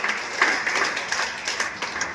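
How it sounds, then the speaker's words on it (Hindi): A crowd at a Lions Club event claps steadily, a dense patter of applause that holds at an even level for a couple of seconds. "एक बार जोरदार तालियों के साथ अभिनंदन करें।"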